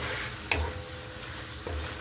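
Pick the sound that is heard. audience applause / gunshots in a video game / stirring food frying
stirring food frying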